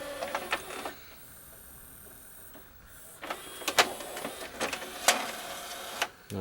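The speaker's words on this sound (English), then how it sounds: "So let's try and eject the CD one." A Pioneer LaserActive player's CD disc tray ejects with a quick mechanical whir and a few close clicks and clunks of motor and tray travel, separated by a brief quiet pause.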